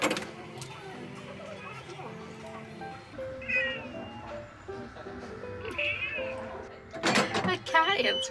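A cat meows a few times in short, high calls at a park attraction, heard over steady background chatter and crowd noise.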